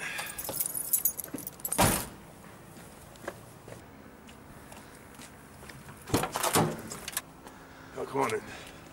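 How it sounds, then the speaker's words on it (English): Keys jangle in a few bright, clattering bursts, the loudest around two seconds in and again near six seconds, with quieter movement noise between them and no talking. "Got my keys."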